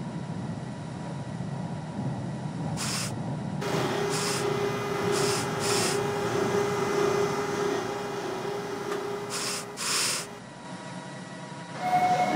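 A New York MTA Q local subway train running in the OpenBVE train simulator game: a steady rolling rumble with a faint tone, broken by several brief bursts of hiss, with no talking.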